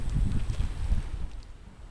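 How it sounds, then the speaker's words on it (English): Gusty wind blows through a cemetery, a low rumbling buffet against the microphone that is strongest early and eases toward the end, with no voices. "It's getting really windy."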